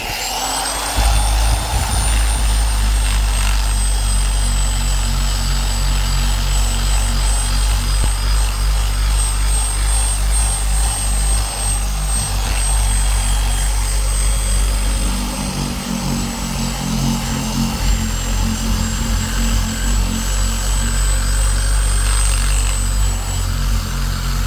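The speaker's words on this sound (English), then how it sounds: "I'm just going to go ahead and use 400 grit on the DA" A DA sander with 400 grit paper scuffs the body of an RV, a loud continuous droning whir up close with a steady high whine above it and no break over the whole stretch.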